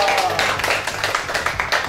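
A group at a marketing crew's iftar gathering claps together, sharp uneven hand claps ringing out over a noisy room with voices mixed underneath.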